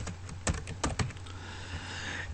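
Keys clatter on a computer keyboard as a name is typed into an APA cover page, a quick burst of clicks with a few louder strokes, then quieter background hum.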